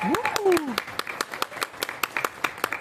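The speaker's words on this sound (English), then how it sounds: "give a big round of applause for them" Audience applause with steady, rapid clapping close by; a voice calls out briefly at the start over the claps.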